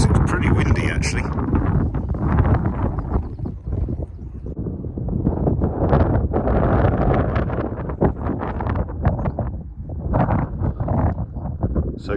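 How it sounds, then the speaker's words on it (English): Strong wind buffets the microphone throughout a hill walk in the Peak District, a loud continuous rushing roar with gusts, with a voice talking over it. "it's pretty windy actually"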